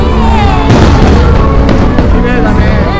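Big fireworks bursting over a beach in Japan, loud booming blasts with rolling rumble and crackle, heard close and dense, with people talking beneath.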